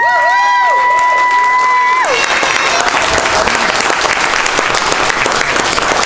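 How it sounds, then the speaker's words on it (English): Family audience applauding during a celebratory toast, a dense burst of clapping that erupts after a brief tone and continues steadily with some cheering mixed in. "Let's clap for Joan."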